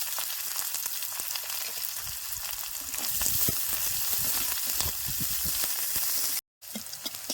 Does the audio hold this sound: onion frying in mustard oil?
yes